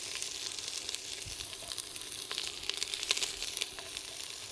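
Fennel sizzling as it hits extra virgin olive oil in a hot pan for a cioppino, a steady close hiss of frying with faint crackles and light stirring, no talk.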